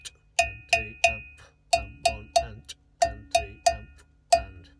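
A percussion groove on congas and cowbell sounds up close: about a dozen sharp, ringing cowbell strikes land in a steady quarter-note pulse over low drum thumps, with a short gap partway through.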